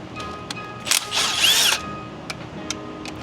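Brushless power gun loosening mount bolts with a 13 mm socket, a short whirring burst with rising and falling pitch, flanked by a few sharp ratchety clicks and light handling noise, close and without talk.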